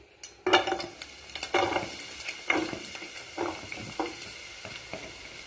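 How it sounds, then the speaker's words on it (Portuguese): Onion and garlic sauté in oil in a pan: a close, crackling sizzle broken by repeated scraping stirs and clinks against the pan, with no talking. "A cebola e o alho, tá certo? A gente vai dar aquela refogada."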